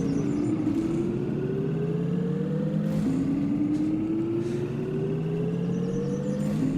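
Car engine in the LittleBigPlanet video game revving steadily upward in pitch, shifting once partway through and climbing again, loud and continuous over a low rumble with no talk.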